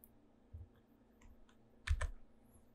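Several soft keystrokes on a computer keyboard, sparse at first, then a quick cluster of louder clicks, close and quiet over a faint hum.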